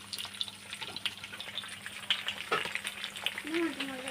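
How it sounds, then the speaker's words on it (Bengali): Pangas fish frying in oil in a frying pan after being turned over, a steady crackling sizzle with scraping of a utensil and a faint run of water in the background. "দেখুন লাল হয়ে ভাজা হয়েছে এক পিঠ, অন্য পিঠ ঘুরিয়ে দিয়েছি।"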